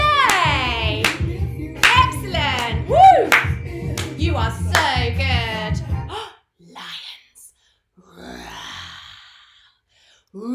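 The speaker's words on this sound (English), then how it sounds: "Give yourself a big clap" A group of children clap together in a burst of applause during a drama and role-play session, the clapping dense and lively for several seconds before fading into quieter rustles and faint voices.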